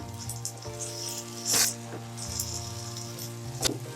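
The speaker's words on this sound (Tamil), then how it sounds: "இப்போ வந்து அப்படியே கிளறி விடுங்க." Beaten eggs sizzle and fry in a hot pan while being stirred for Tamil-style egg rice, with a steady close crackle and a brief louder scrape of the spatula partway through.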